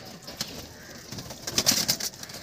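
Pigeons coo faintly in a low murmur, with a few brief fluttering bursts and no voices.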